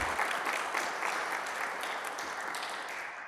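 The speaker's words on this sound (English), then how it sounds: "give them a round of applause and a welcome" An audience at an inventor event in Kansas City claps steadily for the presenters, a dense, fairly close burst of applause that slowly tapers off.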